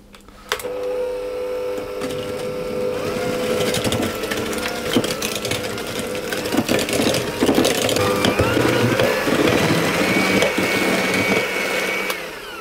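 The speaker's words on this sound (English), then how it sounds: "I'm going to mix all of those until they're combined" An electric mixer whirs steadily, combining egg, milk and vanilla extract for fig and date bundles, a loud continuous mechanical drone with small rattles that runs nearly twelve seconds before cutting out.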